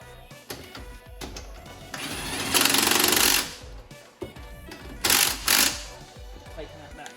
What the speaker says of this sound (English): Tighten that back down.